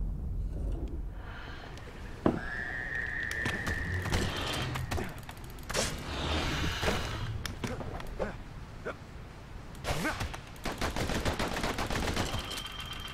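Pistol shots and other weapon fire in the action video game Bastion, heard as a string of sharp bursts and clicks over a steady game soundtrack, with a brief rising tone partway through.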